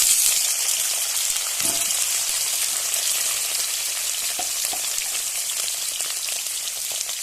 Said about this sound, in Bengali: কড়াইতে দিয়ে দিয়েছি একটু তেল, তেলটা গরমও হয়ে গেছে। এবার মুরগির মাংসগুলো দিয়ে দেবো।